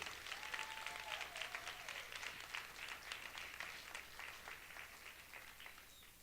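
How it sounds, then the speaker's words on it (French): Studio audience at a televised gala applauds young contestants, a dense, steady wash of clapping throughout, with faint speech beneath. "On les applaudit."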